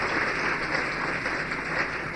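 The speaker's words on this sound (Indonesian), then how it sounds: "Beri tepuk tangan yang meriah kepada Tuhan." A church congregation claps and applauds, a steady even wash of clapping heard at moderate distance with no voices over it.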